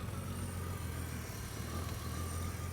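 A turbocharged BMW E46 engine idling on its first start, a steady close rumble with a slightly uneven low pulse and hiss, running alone without talk.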